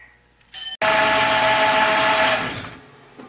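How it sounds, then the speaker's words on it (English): Lathe spinning up to turn a brass crown wheel for an English bracket clock, with a brief mechanical whine and click before a steady close motor hum that fades out after about two seconds. "So I guess we'll go over the lathe and start making some chips."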